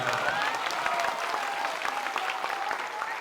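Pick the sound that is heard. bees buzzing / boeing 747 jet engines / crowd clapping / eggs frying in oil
crowd clapping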